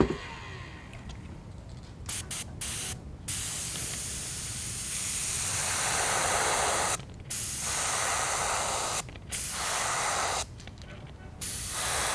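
An airbrush hisses steadily while spraying paint onto a fishing lure in a basic perch pattern, in several bursts broken by short pauses, close and clear with no talking.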